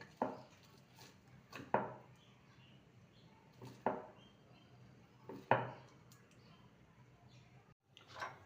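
A knife chops fenugreek greens on a board, a handful of sharp, separate strikes spaced a second or two apart over a quiet background.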